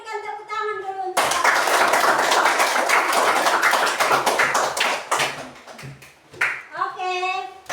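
Classroom of children applauding together after a group answer, a dense burst of clapping lasting several seconds between an adult teacher's voice before and after.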